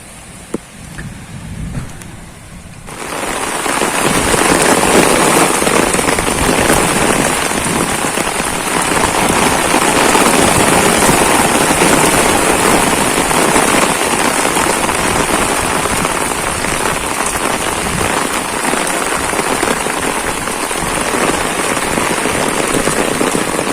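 A heavy June summer downpour lashes a garden in Kyiv region, starting with a few faint drops and then surging into a loud, dense, continuous roar of rain on surfaces.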